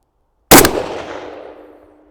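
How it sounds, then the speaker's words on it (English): A single loud rifle shot of Swedish .223 solid copper match ammunition from a 16-inch barrel, a sharp close crack with a long echoing decay and no other sound. "first shot out of a 16-inch barrel is gonna be the fancy"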